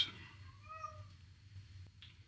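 Indoor cat wanting to go out gives a single soft, drawn-out meow, fairly faint against a low background hum, followed by a small click.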